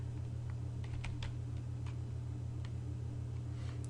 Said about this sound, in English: we're going to type in the path to our new share.